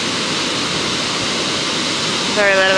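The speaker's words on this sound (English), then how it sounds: "And this is Rainbow Falls." Rainbow Falls, a waterfall on the Pacific Crest Trail, roars close by in a loud, unbroken wash of rushing water, and someone briefly speaks over it at the end.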